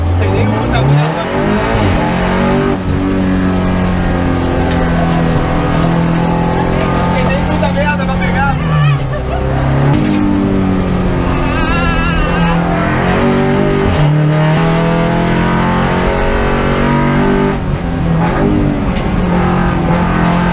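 An Audi race car driving fast on a track: loud, sustained engine drone with rising and falling revs as it accelerates and shifts, close and continuous, with talk over it.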